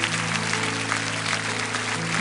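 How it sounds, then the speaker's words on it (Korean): Congregation applauding together during a Korean church service at Bundang Woori Church, a steady dense clatter of clapping filling the sanctuary, with a sustained low tone held underneath throughout. "우리 큰 박수로 이분들을 축복합니다."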